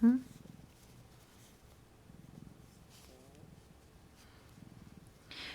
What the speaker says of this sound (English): She's just purring.